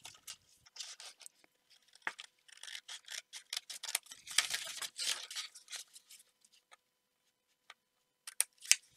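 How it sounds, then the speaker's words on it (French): Scissors cutting paper for a pop-up album page, close and quiet, with many short snips and rustling cuts in irregular bursts and brief gaps. "je continue de découper"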